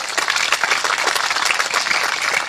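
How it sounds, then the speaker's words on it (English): Audience applauding partners at a live-streamed community event, a loud, even roar of many hands clapping continuously with no pause. "Please give them all a round of applause."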